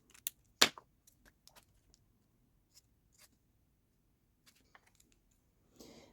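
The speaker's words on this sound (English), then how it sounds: "here I'm cutting the leaves" Scissors fussy-cut paper leaves for a mixed media art journal page, giving a sharp close snip followed by sparse, faint clicks and light paper rustles, then a soft rustle at the end.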